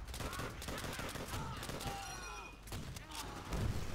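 Gunfire bursts in Call of Duty: World at War, a World War II shooter, with rapid volleys and thuds layered over dense battlefield noise and game music, steady and loud throughout.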